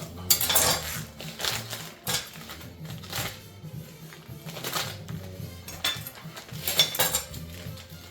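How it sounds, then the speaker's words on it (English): Bacon being sliced with a knife on a board produces repeated sharp taps and knocks at an uneven rhythm, close and fairly loud, with faint clinks in between. "Next we're going to go ahead and get a bacon and we will sliver that up."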